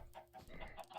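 Chickens cluck in Minecraft, a faint, quick series of soft clucks and chirps over about a second with no talking.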